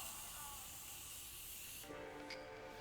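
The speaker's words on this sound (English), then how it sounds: "Like it literally gives you just the perfect airbrush mist of setting spray." A fine mist of makeup setting spray hisses steadily for nearly two seconds, then cuts off, leaving quieter background sound.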